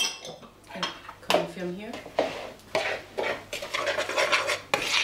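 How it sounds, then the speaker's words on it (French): Almonds and flour are mixed in a bowl, heard as irregular scraping and clinking of a utensil against the bowl, with brief voice fragments in between. "tu mélanges tes amandes avec la farine"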